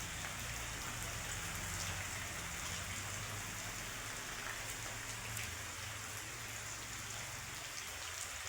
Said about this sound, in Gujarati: અત્યારમાં વરસાદ આવી ગયો